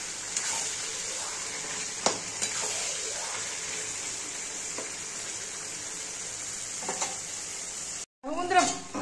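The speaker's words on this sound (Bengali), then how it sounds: "বন্ধুরা, প্রায় কষানো হয়ে যাচ্ছে মাংসটা" Mutton being sautéed in spices for kosha, a continuous close sizzle with intermittent scraping and stirring noises, ending with a brief pause and a clatter.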